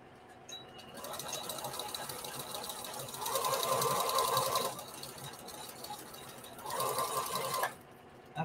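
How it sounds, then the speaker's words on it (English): A sewing machine runs a seam closed on a bandana patchwork T-shirt dress. It gives a steady close mechanical whir that rises into two louder stitching runs, with no voices. "So I'm going to just sew over that so I can close that hole."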